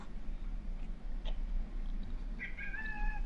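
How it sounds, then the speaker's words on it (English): A male house cat meows in the background of a live podcast recording, a faint rising cry near the end over a steady low room hum. "cat is trying to join the podcast right now, but he's failing"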